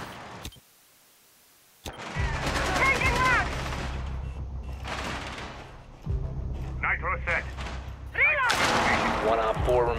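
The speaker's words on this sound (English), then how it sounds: "That round was to fire a whole bunch of warning shots to try to discourage Ash" Gunfire in Rainbow Six Siege on the Border map, a burst of warning shots fired at an opponent, rapid broadband cracks recurring in bursts across the round amid game noise and a talking voice.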